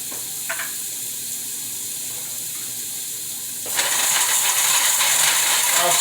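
Shallots and garlic sizzle in oil in a pan: a steady, fine hiss that suddenly jumps louder and brighter partway through, then holds as a dense crackle with no talking.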